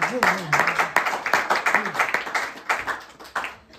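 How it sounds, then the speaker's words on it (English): An audience claps along in quick, steady rhythm at a lively religious celebration, the hand claps sharp and dense while voices sing and call out over them throughout. "Clap your hands."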